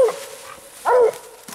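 Bluetick coonhound baying at a treed raccoon during a night coon hunt, a few drawn-out howling bays with a strong loud burst in the middle and shorter yelps around it, close by with no talk.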